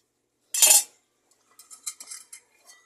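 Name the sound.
stirring a pot with a utensil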